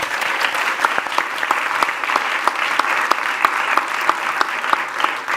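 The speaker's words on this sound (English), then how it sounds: "huge round of applause for our panel" Audience applause for a panel at the close of a sustainable AI session, dense sustained clapping from a room of people with distinct sharp claps standing out, loud and continuous throughout.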